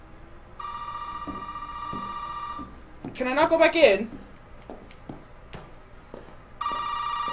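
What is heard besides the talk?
telephone ringing in Resident Evil 7 video game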